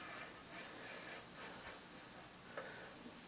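Butter sizzling on a hot grill for a ham and Swiss po-boy, a soft, steady, fairly faint sizzle with a few light scrapes.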